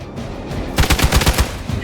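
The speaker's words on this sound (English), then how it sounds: "Taking the shot." Rapid gunfire in the video game Midnight Suns, a loud close burst of about eight sharp shots in quick succession after a brief lull of ambient noise.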